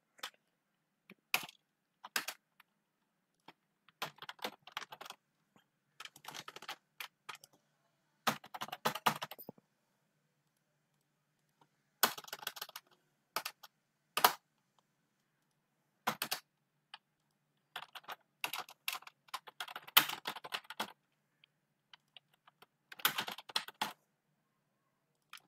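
Typing on a computer keyboard while entering dummy customer data into a web app form: irregular bursts of light, close key clicks separated by short pauses, quiet and alone.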